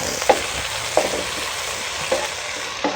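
Chili fries with onion and garlic in a pan for chicken curry, making a steady close sizzle with a few sharp stirring clinks spaced about a second apart, with no talking.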